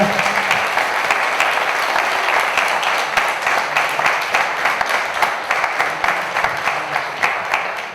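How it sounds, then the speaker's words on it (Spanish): Sustained applause from an audience at a mystery-themed conference talk in Zamora, steady dense clapping filling the whole stretch at even loudness. "Por favor, un aplauso para Juanjo López."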